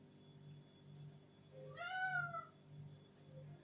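A house cat gives a single clear, rising-and-falling meow over a quiet indoor background with a low steady hum, close to the listener.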